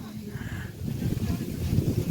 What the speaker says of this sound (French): Oh, il y a du vent, c'est super.